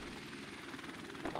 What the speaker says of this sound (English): Oh, it's the helicopter, dude.